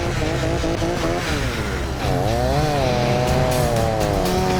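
Chainsaw cutting down trees to clear room for a heavy-rescue wrecker's trailer in winter, the engine loud and near, pitch wavering and climbing as it bites into the wood, steady throughout.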